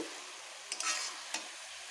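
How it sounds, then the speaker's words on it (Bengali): Wax gourd and small fish curry sautéing in a pan gives a soft, steady sizzle, broken by a couple of brief scraping stirs near the middle, quiet and without talk. "এটাকে একটু এখান এখন ভালোভাবে কষিয়ে নেব"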